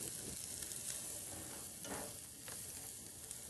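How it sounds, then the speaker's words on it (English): Vegetables sautéing in margarine in a pan for a vegetarian breakfast, a continuous close sizzle with occasional stirring scrapes of a spatula, loud and steady with no voices. "we're going to saute that a little bit"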